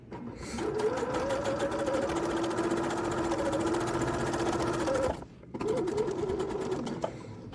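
A sewing machine back-stitches around the fabric of a mini stocking, humming loudly and continuously at close range, briefly pausing before resuming its steady whir.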